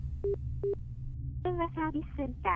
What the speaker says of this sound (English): He takes out his phone and calls up the number.